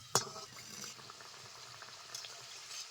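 Mini egg paratha frying in a pan of oil, a soft steady bubbling sizzle with one brief sharp tick near the start, faint and close.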